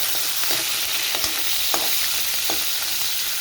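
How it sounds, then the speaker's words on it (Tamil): Green chilies and green peppercorns frying in hot oil for a manathakkali poriyal, with a steady loud sizzle and a few soft scrapes of a spoon stirring the pan. "நல்லா பொரிஞ்சு வரட்டும்."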